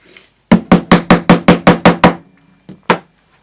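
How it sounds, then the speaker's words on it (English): Leather dividers are hammered through leather on a protected work surface: nine quick, evenly spaced sharp knocks, a short pause, then two more strikes, close and loud. "these are the dividers, but I'll just hammer onto those"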